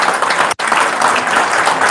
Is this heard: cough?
no